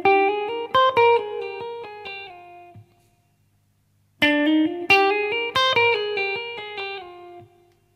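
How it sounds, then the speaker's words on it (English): An electric guitar plays a quick scale run up and back down, bright plucked notes ringing out, then after a pause the same run repeats. "then descending scale run that sounds like this."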